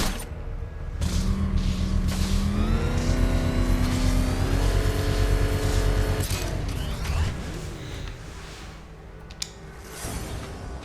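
The Batmobile in Batman Arkham Knight roars as it drives, engine pitch climbing and shifting through revs in a loud sustained growl, then settling to a lower rumble with a sharp clunk near the end.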